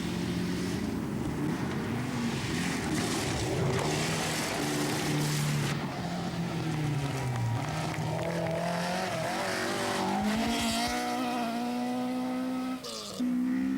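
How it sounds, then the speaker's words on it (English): A rally car races along a stage of the 1985–86 Rally of New Zealand, its engine revving loud and close with rising and falling pitch through gear changes, under a continuous roar. "Possum Bourne squeezes past the temporarily stranded car, but Inky is soon away again, and by the next stage is going as fast as ever."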